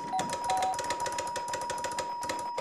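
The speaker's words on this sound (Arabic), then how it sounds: "يا ريت الجرس ضرب" A doorbell rings in an apartment building hallway, a clear electronic chime repeating in quick, rhythmic pulses for a couple of seconds, heard alone at moderate volume.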